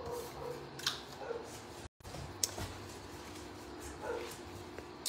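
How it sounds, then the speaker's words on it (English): A neighbor's dog barks faintly in the distance, with scattered yips spread over a steady background hum and a brief dropout partway through. "Can you guys hear that dog barking?"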